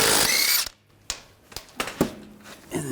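Power tool loosening the lug bolts on a Volkswagen Tiguan wheel: a loud whirring burst at the start, then a few sharp ratcheting clicks and short bursts nearby.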